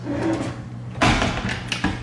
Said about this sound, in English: Underneath we have drawers.